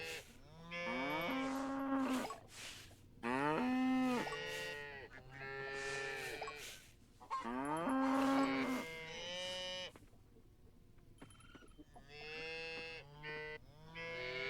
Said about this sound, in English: Trying to pet the cow.